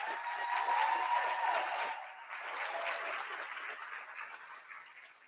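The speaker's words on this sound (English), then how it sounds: "Please give them a congratulatory round of applause." An audience at a county board of education meeting gives a congratulatory round of applause, a steady patter of many hands that swells, dips slightly, then fades out over a few seconds.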